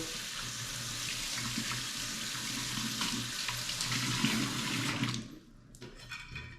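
Running tap water pours steadily as barber tools are rinsed under a faucet in a barbershop sink, a continuous close splashing rush that cuts off abruptly near the end.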